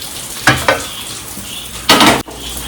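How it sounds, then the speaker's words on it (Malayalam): Water sputters and pops in a freshly washed pan drying out as it heats on a stove, with two short sharp bursts followed by a longer crackling sizzle, fairly close and with no voices. "അത് വെള്ളം ചാടുന്ന സൗണ്ടാണ്."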